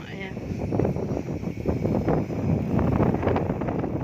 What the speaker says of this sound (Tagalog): Dinig nyo. Sarap ng hangin dito.